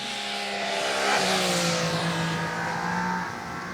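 A Yamaha Niken three-wheeled motorcycle ridden fast on a wet road in the rain, its engine note rising and holding loud and steady with broad spray and wind hiss throughout.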